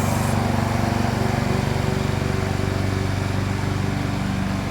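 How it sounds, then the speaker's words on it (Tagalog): Lawn mower mowing backyard grass, a steady close engine drone with a fast regular pulsing throughout, loud and continuous with no voices over it. "every Wednesday mowing of the grass"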